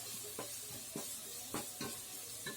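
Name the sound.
frying ground green paste in a hot pan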